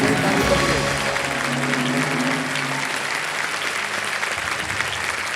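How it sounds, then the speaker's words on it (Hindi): Studio audience on the TV quiz show Kaun Banega Crorepati Season 15 applauds in a steady, loud, dense wash of clapping that lasts throughout, with a voice briefly audible under it at the start. "पहले से ही ताली बजिए"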